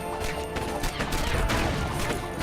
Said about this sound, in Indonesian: Gue nabrak polisi, coy. Pantesan meledak gue.